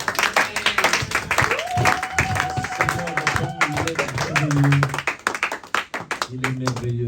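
A church congregation at a worship service claps and cheers in praise, steady rhythmic clapping mixed with voices and a sustained sung or shouted tone over music, loud and close throughout.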